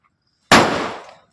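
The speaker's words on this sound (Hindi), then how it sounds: "2-3 पटाखे हम भी फोड़ लेते हैं।" One firecracker bursts with a single sharp, loud bang outdoors, then its echo fades over most of a second. Nobody talks around it.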